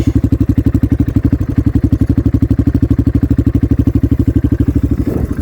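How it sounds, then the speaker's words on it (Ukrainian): A motorcycle idles loudly up close, its custom exhaust thumping in a fast, even, pulsing beat that holds steady throughout. "Ще сюди поставив е, кастомний вихлоп"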